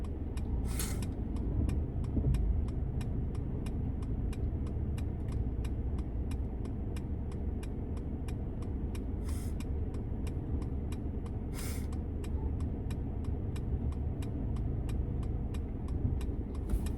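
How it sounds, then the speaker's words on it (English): A car rolls past nearby over the steady low engine rumble of a facelifted Mercedes-Benz W213 E-Class, with faint brief hisses as it goes by. "We waited for the car to pass by before backing up"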